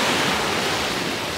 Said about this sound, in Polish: Słuchajcie, jesteśmy nad morzem, zobaczcie.